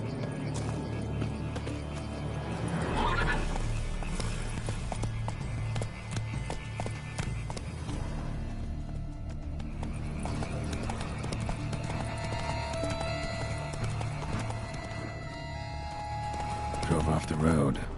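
Hooves of Roach, Geralt's horse in The Witcher 3 Blood and Wine, pound steadily at a gallop across the whole stretch, with a brief whinny amid a dense, constant bed of game sound.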